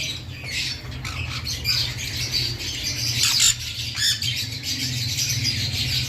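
Several budgerigar chicks squawk and chirp continuously at close range, a dense, raspy chorus of begging calls over a low background hum.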